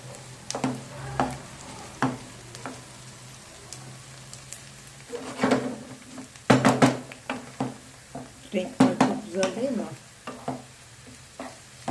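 Onions frying in a pan for menemen sizzle steadily while a utensil stirs them, making repeated sharp scraping and clattering bursts that grow busier toward the end; close and fairly loud.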